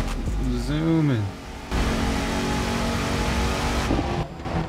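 Dodge Hellcat engine in the racing video game The Crew 2, a loud sustained roar as the car speeds along, preceded by a short burst of a voice.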